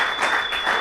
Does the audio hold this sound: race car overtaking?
no